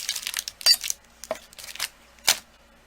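Several sharp, separate clicks and taps as a blade cuts a bar of translucent Primo polymer clay on a work surface, close and crisp, with quiet gaps between strikes.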